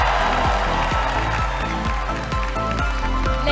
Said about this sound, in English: let's give another round of applause for our selection committee